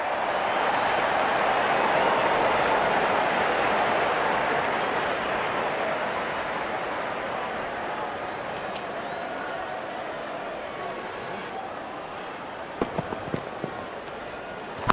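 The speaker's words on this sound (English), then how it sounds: "Now that's a good 50. It will be appreciated by the crowd." Steady broadband applause and crowd noise from a stadium in the Real Cricket 24 game, a continuous wash of clapping that slowly fades, with a few sharp clicks near the end.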